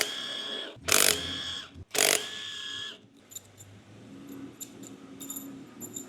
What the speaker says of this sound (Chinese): 我们再把这些螺丝拆开就 OK 了。